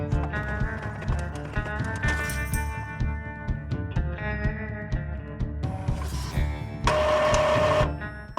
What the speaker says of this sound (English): I'm going to do print and cut, and we're just going to start printing these items out.